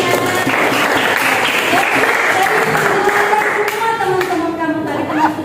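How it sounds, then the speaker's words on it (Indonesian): A group bursts into loud, close applause, with voices and cheering mixed into the clapping as it carries on and slowly thins. "tepuk tangan buat Putri ya."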